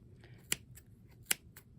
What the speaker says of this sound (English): If you try and go too much, your scissors just won't want to cut it